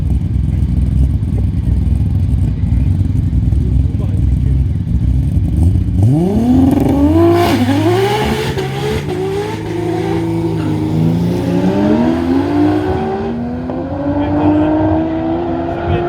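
A 1,000 hp Nissan GTR R33 Skyline at a drag race revs hard, its engine note sweeping upward through rapid gear changes as it pulls away, loud and near over a steady rumbling backdrop.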